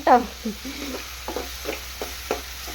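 Okra frying in oil in a home kitchen pan, with a steady sizzle and repeated stirring scrapes at a slow rhythm, close by, with no talk.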